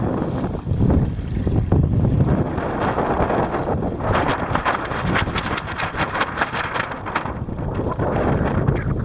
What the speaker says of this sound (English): I'm going to turn my rudder and change directions and go into a starboard tack.